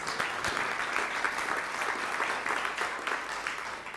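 Sustained crowd applause for a speaker from Palau at the opening of the 20th Berlin Climate Talks, a steady dense clapping that holds evenly throughout with no speech over it.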